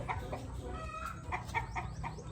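Chickens, including a rooster and hens, clucking outdoors in a brief, busy burst of overlapping clucks at moderate distance.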